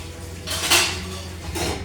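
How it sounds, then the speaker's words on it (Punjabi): Dishes clink and clatter against each other with water running faintly beneath, a couple of louder knocks standing out, close by. "ਆਪਾਂ ਭਾਂਡੇ ਧੋ ਲੈਣੇ"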